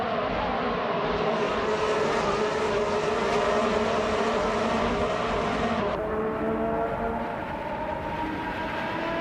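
Race cars, including a 2017 Toro Rosso TR12 and a Renault RS17, roar in a steady, loud, continuous engine drone that shifts pitch slightly partway through as the field runs.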